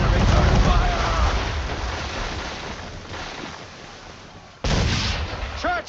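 Ship cannon fire in a naval battle video game: rumbling, roaring blasts over sea and wind noise, fading out, then another sudden loud burst near the end.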